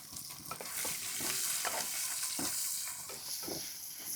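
A spoon stirs chopped onion, green chilli, dried red chilli and curry leaves frying in a pan in a village kitchen, with a quiet sizzle under repeated scraping strokes.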